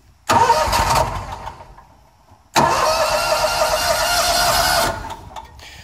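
John Deere Z Trak mower engine cranking, a loud start that fades, then a second cranking burst lasting about two seconds before cutting off.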